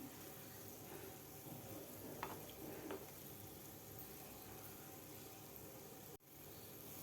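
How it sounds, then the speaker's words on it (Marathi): Milk-powder gulab jamun fry in oil over medium heat, giving a faint, steady bubbling sizzle with a couple of soft clinks and a brief dull knock near the end. "मीडियम हीटवरच आपल्याला व्यवस्थित हे तळून घ्यायचे आहेत गुलाबजामुन"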